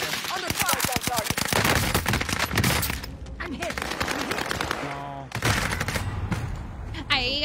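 Rapid video-game gunfire fills the clip, loud dense bursts of automatic fire and overlapping shots with brief gaps, mixed with game sound effects.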